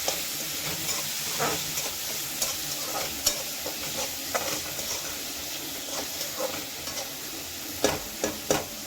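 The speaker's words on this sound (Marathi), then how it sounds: "नेक्स्ट आपण टाकणार आहोत टोमॅटो. टोमॅटो छानसा गाळ झाला पाहिजे आणि छानसा बारीकही झाला पाहिजे." Chopped tomatoes frying and being stirred in a pan while making poha, with a steady close sizzle and repeated clacks of the spoon against the pan throughout.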